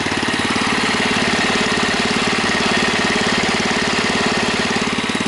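A Husky engine whose gas tank was removed and relined runs at a steady idle, close and loud, with a rapid, even chugging pulse and no talking.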